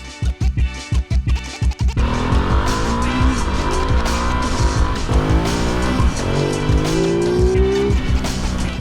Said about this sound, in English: an extremely noisy day at Silverstone where we've got cars going around the track